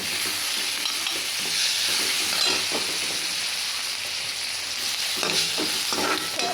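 Whole cinnamon, cloves, cardamom and fennel seeds fry in a hot iron pan with garlic for a jackfruit curry, a loud continuous sizzle with crackles and occasional stirring scrapes, close up and without speech.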